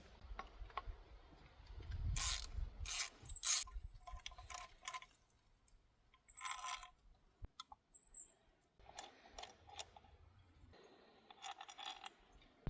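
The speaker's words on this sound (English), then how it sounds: "Now we can take our T30 bit and remove these 2 bolts." Two ignition coil bolts on a Chevy Cruze being loosened with a T30 bit, heard as a close, quiet run of ratcheting clicks and small metallic taps and rattles, alone with no talk.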